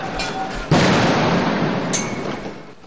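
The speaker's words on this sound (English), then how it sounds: "as the gunfire and the explosions became more frequent" A sharp blast of gunfire or an explosion cracks out during street protest clashes, followed by a long rolling echo and a second, fainter report with no speech.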